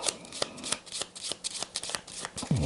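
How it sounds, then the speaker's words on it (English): Playing cards for the board game Descent: Journeys in the Dark are shuffled nearby in a quick run of crisp riffling bursts and taps, ending with a soft slide. "Give them a quick shuffle here."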